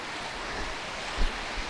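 A waterfall and river along a mountain hiking trail give a steady, dense rush of water that fills the scene evenly, with a faint low thump partway through and no voices.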